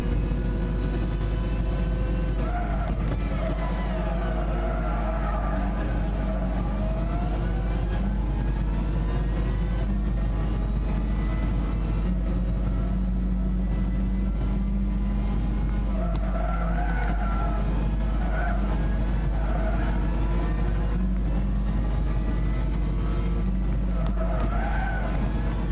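A car in Gran Turismo 6 drives with a steady engine drone while tires repeatedly squeal and skid through corners in long swelling bursts, continuous and unbroken.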